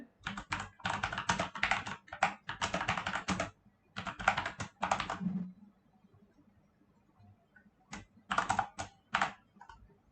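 Typing code on a computer keyboard, close and clear, with fast bursts of key clicks separated by pauses, then a final short flurry after a quiet stretch.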